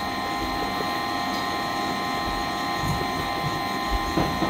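An electric mixer whips cream in a mixing bowl, producing a steady, close motor whine with a faint rattling mechanical texture that runs unbroken throughout.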